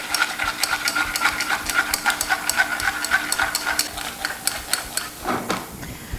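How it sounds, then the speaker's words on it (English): Milk thickened with cornstarch simmers on medium-low heat while a whisk scrapes the pan in fast, regular taps, with a soft bubbling hiss beneath and a clatter near the end. "Keep the heat on medium-low and bring the milk to a simmer."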